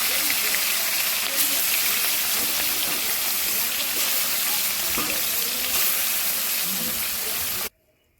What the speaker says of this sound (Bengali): কাতলা মাছ ভাজা করব, তেল দিয়ে দিলাম কড়াইতে।